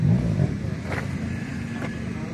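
A Honda Super Dream 305 motorcycle with electric start pulls away at a classic bike meet, its engine a low rumble that lifts briefly and then settles into a steady drone as it rides off.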